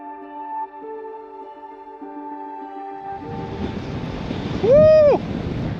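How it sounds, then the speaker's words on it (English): Strong wind roars across an open mountain ridge above Loch Quoich, rising suddenly into a loud, steady rush after a few seconds of quieter tones, with a brief vocal whoop near the end. "this far more intense wind than we expected today"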